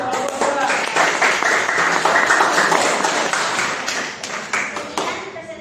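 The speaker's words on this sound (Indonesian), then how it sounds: "tepuk tangan untuk kelompok." A classroom of students applauds a presenting group, a burst of brisk, uneven hand clapping that holds for several seconds with some voices mixed in, then tapers off.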